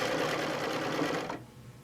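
A domestic sewing machine stitches a circle in rulerwork quilting with a loud, close, fast whirring buzz that stops abruptly, leaving a low room hum.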